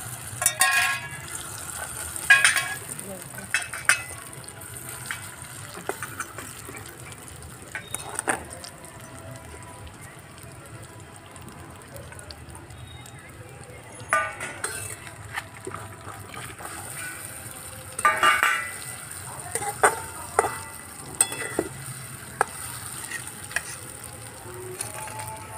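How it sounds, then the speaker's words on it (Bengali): Marinated soybean chunks fry in hot oil with a steady crackling sizzle, broken by several louder spitting bursts, and no voices throughout. "তেলটা গরম হয়ে গেছে, এবারে মাখানো সোয়াবিনটা ভেজে নেব।"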